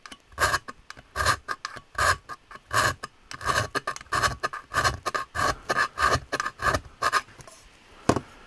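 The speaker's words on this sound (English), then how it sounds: "It's aluminium, so it is filing really easily." Hand file rasping back and forth across aluminium in a steady rhythm of about a dozen close, scratchy strokes, with a single sharp knock at the end.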